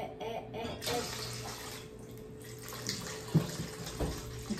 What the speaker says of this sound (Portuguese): agora é só colocar água aqui